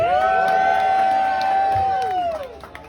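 A comedy club crowd cheers and whoops loudly in answer to a performer's greeting, a sustained roar of many voices close by that fades toward the end.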